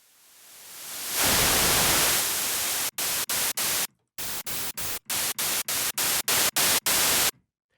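Bright, full-band white noise from the Harmor synth, swelling in over a second, then held steady before being chopped into a rapid series of evenly spaced bursts separated by short silences, loud and close with no voice.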